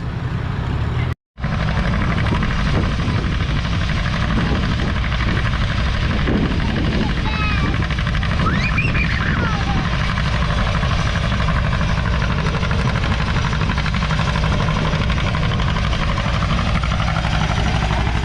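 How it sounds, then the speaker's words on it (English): A John Deere B tractor pulls the sled in a 4,000-pound class at a fall tractor pull in Lynden. Its engine makes a loud, continuous throbbing drone that holds steady through the clip after a brief cut near the start. "Got a John Deere B on the sled."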